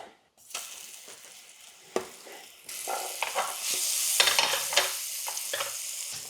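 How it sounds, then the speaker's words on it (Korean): Garlic and onion fry on low heat in a pan used for steak. A quiet sizzle swells after a few seconds into a fuller, crackling fry, with occasional sharp ticks of stirring. "그래서 약불로 켜주시고 여기에서 저희가 마늘과 양파를 넣을 거예요"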